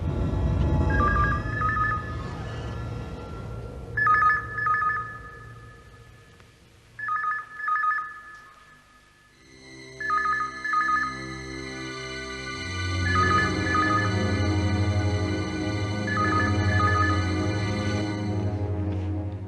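A mobile phone rings in repeated electronic trilling bursts, fairly loud and close, followed by a steadier tonal ringtone passage with low background sound and no talk.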